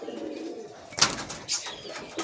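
A pair of pigeons coo in a low, throaty murmur close by, broken by a sharp burst of wing flapping or scuffling partway through.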